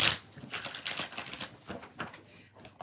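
Tarot cards, a small cartoon-style deck, shuffled by hand in a series of quick riffling bursts of crisp papery flicks, close and fairly loud, with short pauses between passes.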